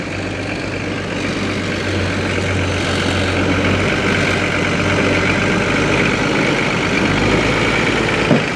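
An old abandoned heavy-equipment truck engine with just under 900,000 original kilometres and an aftermarket turbo idles in a steady, close, low rumble that runs unbroken and without talk.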